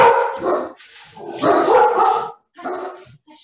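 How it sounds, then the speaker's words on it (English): Several dogs bark and yip repeatedly at a distance, in uneven bursts with short pauses, behind a workshop on soil survey mapping. "Now we got dogs creating a background for us."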